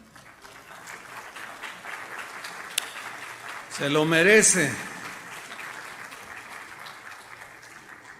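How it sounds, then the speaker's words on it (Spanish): A church congregation breaks into a short burst of applause during a Spanish-language sermon, swelling for about a second and fading back under the preacher's voice and room noise. "denle un aplauso al Señor"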